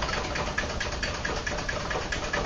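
A small Stirling engine with a large, heavy displacer piston runs continuously, giving a close, steady, fast mechanical chugging whir with an even pulsing beat and no talk.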